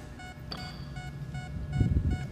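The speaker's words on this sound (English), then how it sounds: "The buzzer went." A buzzer goes off in the video game GTA 5, a steady repeating electronic beeping tone pulsing several times at moderate volume over low background game rumble.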